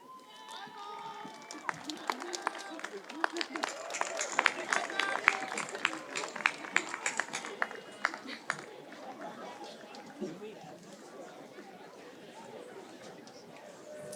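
A crowd of graduates at a 2023 Hudson High School commencement claps and cheers, with rapid dense applause, scattered shouts and babbling voices heard at a distance; the applause swells in the first half and then thins into a murmuring crowd.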